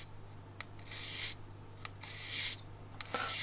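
A Nash finishing file rasps against a carp fishing hook in short, bright strokes, four or five rubbing passes separated by light taps and pauses, close and fairly quiet over a low steady hum.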